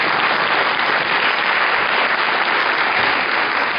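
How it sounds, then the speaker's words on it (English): Steady, loud applause fills a hall for the artists at a classical dance Rangapravesam debut performance, an even wash of many hands clapping throughout with no pauses or voices. "A big round of applause for all."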